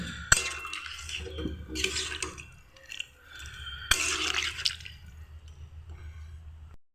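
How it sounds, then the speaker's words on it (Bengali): Water poured into a cooking pot while making sukto splashes in uneven bursts with dripping, close and moderately loud, with no talking. "আর কিছুটা পরিমাণ জল দিয়ে দেবো।"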